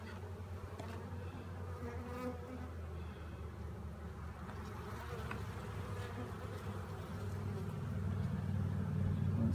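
Honey bees buzz around an open beehive during a springtime hive inspection. A dense, low, continuous hum fills the air and swells louder toward the end.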